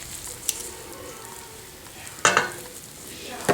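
Peruvian tamale masa dough being mixed, with soft scraping and stirring that runs steadily, broken by a few sharper scrapes and knocks against the bowl.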